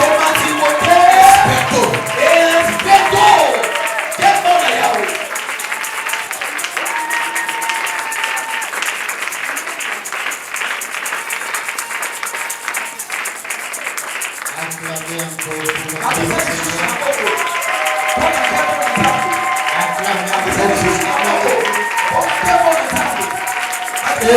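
A church congregation applauds and cheers to welcome the apostle Timothée, sustained loud clapping with shouts and voices throughout, and talk rising over the crowd.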